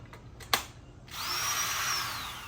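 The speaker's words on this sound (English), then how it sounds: "This thing can do some drilling." A Ryobi 18V cordless two-speed drill whirs steadily after a sharp click and a few brief revs, running at a continuous high-pitched whine up close.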